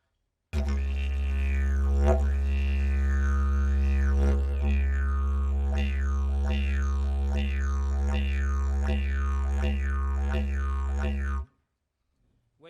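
A didgeridoo imitates a big red kangaroo hopping, holding a deep steady drone while rhythmic vocalized whoops bounce over it in a regular hopping pulse, loud and close for about eleven seconds before stopping.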